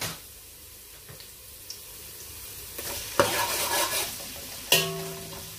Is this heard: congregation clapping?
no